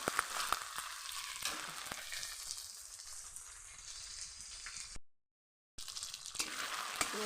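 Onions fry in oil in a pan for a jackfruit vegetable dish, giving a soft, steady sizzle with light stirring ticks, fairly quiet, broken by a brief silent gap near the end.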